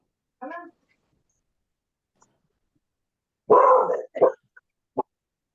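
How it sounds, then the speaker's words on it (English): Dogs barking indoors: a short whine, then a loud burst of barks and a couple of sharp yips after a silent pause, close by and alone. "I'm not going to be able to hear you with the dogs barking like this"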